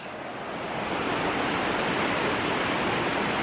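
A river swollen after three days of rain rushes past in a loud, continuous broadband roar, swelling slightly at the start and then holding steady with no voices.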